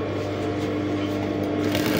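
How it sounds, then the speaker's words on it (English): A sewing machine stitches boning onto a dress in a continuous, fairly loud mechanical hum with a rapid steady rhythm throughout. "So that's how you sew it, and you sew till the end."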